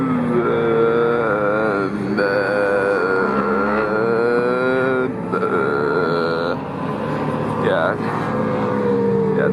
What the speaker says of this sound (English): these bikes are supposed to be 2-stroke, but I do hear one 4-cylinder bike